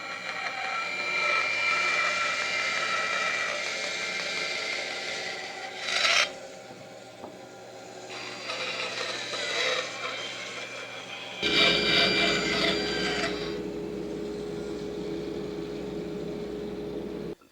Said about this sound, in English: we're at the bandsaw station now, and we're going to go ahead and cut the leaf that I drew out on this board.